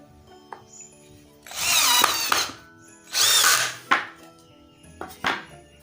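A GAOCHENG GC-CL12V 12-volt cordless drill drives a 1.25-inch screw through two pieces of wood, whirring in two loud bursts with brief clicks and clunks between them.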